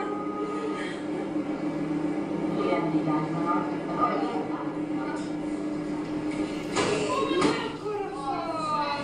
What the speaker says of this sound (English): Okay, this is on the subway.